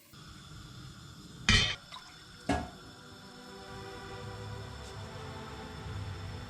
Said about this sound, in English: The pan of water's just come to the boil.